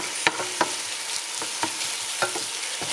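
Chopped red onion is stirred in a frying pan for a chicken and sweet potato red curry, with a soft continuous sizzle punctuated by several distinct spoon clacks and scrapes at an uneven pace, close and quiet.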